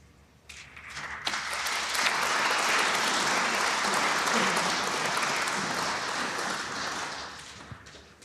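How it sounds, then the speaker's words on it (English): Snooker audience applauding at table 2 during a British Open match, a sustained burst of clapping that swells quickly, holds steady for several seconds, then tapers off near the end. "More applause from table 2"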